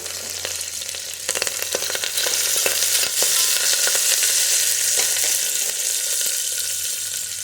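Green chillies and curry leaves sizzle loudly in hot oil in a pan for a broken-rice dish, with a steady frying hiss throughout and scattered scraping clicks as the mixture is stirred.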